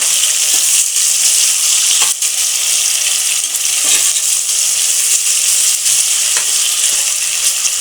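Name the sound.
onions frying in a pan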